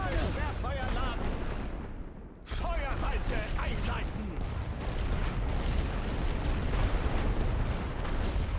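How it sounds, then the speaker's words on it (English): Artillery fire in the World War I strategy game The Great War: Western Front, heard as a dense, continuous rumble of booms and blasts, with someone talking over it throughout. "Now let's use our own artillery here."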